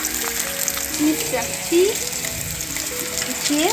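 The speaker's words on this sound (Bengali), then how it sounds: "আর এইদিকে হচ্ছে মাছ ভাজা" Fish fries in a pan with a steady sizzle and occasional stirring, while a voice speaks briefly nearby.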